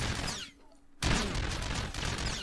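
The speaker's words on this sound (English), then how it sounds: "This is the Reforged AD-1 Assault Cannon." Reforged AD-1 Assault Cannon from Star Wars: The Old Republic firing in loud, rapid bursts, a short burst, then a brief pause, then a sustained heavy volley of repeated blasts, close and dense.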